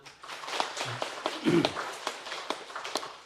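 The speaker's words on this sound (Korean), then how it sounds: "박수 한번 칠까요?" A church congregation at a Sunday service claps lightly and unevenly, the scattered claps faint and somewhat distant, with a brief murmur of voices in between.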